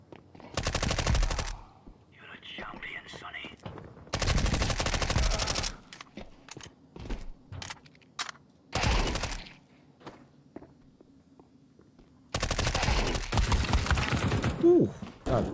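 Counter-Strike 2 gunfire: bursts of rapid automatic fire alternate with single sharp shots and quieter gaps, loud and close, with some thuds between volleys.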